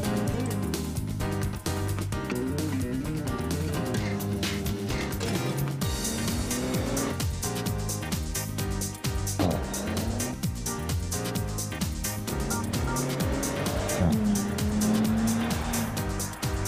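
A Bentley Continental GT Convertible with a 6-litre W12 engine drives along a road in Spain, a steady engine drone with a brief rise near the end, partly covered by background music and a faint voice.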